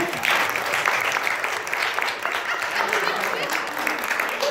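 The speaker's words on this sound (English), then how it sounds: "Give them a round of applause" Audience at a magic show applauds a volunteer returning to their seat, steady dense clapping throughout at moderate distance, with no voice standing out.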